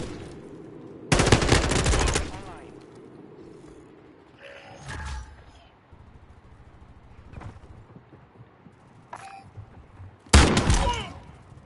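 Gunfire in Call of Duty MW2 played on PS5: a long loud automatic burst near the start, a sharper crack mid-clip and another loud burst toward the end, with quieter clicks and mechanical rattles between.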